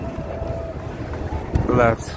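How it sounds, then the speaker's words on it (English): Wind gusts across the microphone at Brooklyn Bridge Park, a steady rushing roar with a stronger buffet near the end. "the weather is kind of a little bit windy"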